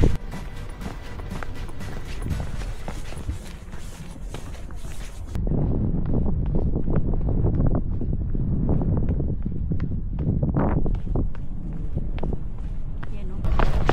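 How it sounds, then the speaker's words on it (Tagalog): Strong wind on a hiking trail from Violet Hill to Repulse Bay, Hong Kong, buffets the microphone in a constant roaring rush, with footsteps thudding underneath and an abrupt shift in the gusting noise partway through. "super lakas ng hangin"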